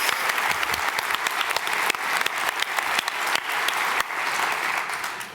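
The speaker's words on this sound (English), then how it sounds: "So a little round of applause, high five around, all those kinds of things." Audience applause at an architecture presentation: a steady, moderately loud patter of many hands clapping, with a few sharper individual claps standing out, tapering slightly at the end.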